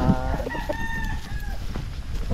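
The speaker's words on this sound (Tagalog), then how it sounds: "Ilan alaga niya manok dito?" A rooster crows loudly and clearly on a chicken farm, with a long drawn-out call rising over the steady background clucking of a large flock of fowl.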